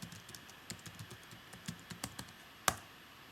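Quick keystrokes typing San Francisco on a keyboard, a run of light irregular taps ending in one louder, sharper press near the end.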